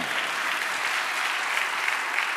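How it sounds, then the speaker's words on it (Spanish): A church congregation applauds steadily, a dense, even wash of clapping from many hands sustained without pause and with no voices over it. "Siga aplaudiendo."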